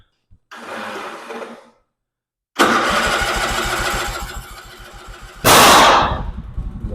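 A 1996 Craftsman GT6000 lawn tractor engine cranks briefly, pauses, then catches and runs loud and close with a rapid chugging idle before a sharp surge of revving at the end.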